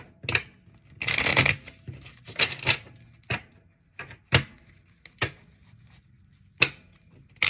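Tarot cards are shuffled and handled close by, giving a burst of rapid riffling followed by scattered crisp snaps, slaps and rustles at irregular intervals.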